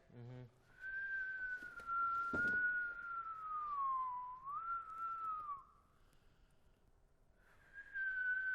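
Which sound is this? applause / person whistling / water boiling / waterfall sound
person whistling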